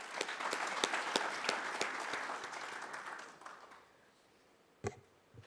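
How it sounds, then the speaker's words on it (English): Conference audience applauding at a plenary welcome session, a broad crowd clatter with a few sharp individual claps standing out, fading away after about three and a half seconds into near quiet, then one loud knock. "Let's give another round of applause."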